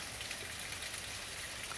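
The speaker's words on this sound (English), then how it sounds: "This type of rain is very dangerous. It's light, and this is what we refer to as female rain." Light, steady rain falls outdoors as a faint, even hiss of drops with no other sounds.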